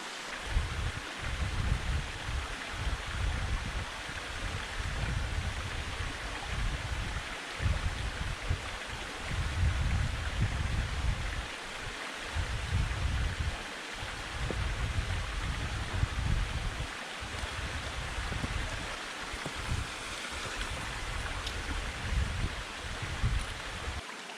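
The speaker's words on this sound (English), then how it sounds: "There's a pretty cool rockside waterfall here" Steady rush of a waterfall spilling down a rock face along the Art Loeb Trail in Pisgah National Forest, a continuous, fairly close wash of water with no voices.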